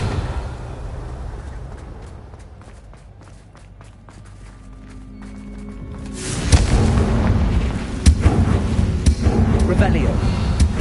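A Confringo blast spell in Hogwarts Legacy goes off with a sudden booming burst partway through, followed by loud rumbling and crackling impacts, after a quieter stretch of faint game ambience and tones.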